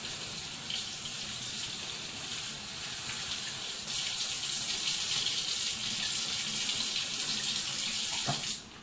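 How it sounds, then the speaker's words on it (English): A cup is rinsed under a running sink tap, a steady close hiss of water that swells partway through and cuts off near the end, with no talking. "Let me wash it, or rinse it at least."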